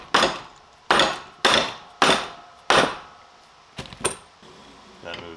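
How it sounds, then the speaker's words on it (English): A hammer strikes repeatedly to drive a valve guide seal onto a cylinder head during an RX-8 LSx drift build; five sharp, close, evenly spaced blows are followed by a couple of lighter taps and a softer knock. "Makes it easier to hammer."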